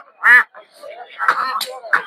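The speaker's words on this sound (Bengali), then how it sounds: "যে হাঁসের বাচ্চা আছে দেশি হাঁসের" Ducks and native ducklings quacking at a duck market, a few short loud quacks close by with voices talking around them.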